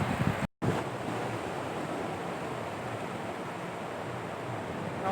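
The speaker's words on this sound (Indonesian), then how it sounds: "Jadi ombaknya cukup besar." Large ocean waves from the Indian Ocean break on the beach at Pantai Sine, giving a steady, loud roar of surf with wind buffeting the microphone and one brief dropout near the start.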